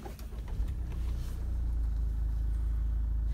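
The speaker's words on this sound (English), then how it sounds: "If I start up the engine," A Toyota RAV4 2.2 is started by push-button keyless start; a brief whir gives way to a steady, low engine idle heard from inside the cabin without any talk.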